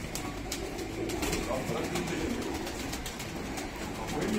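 Pigeons coo softly amid a noisy outdoor background of flock activity, with faint flapping and indistinct voices nearby.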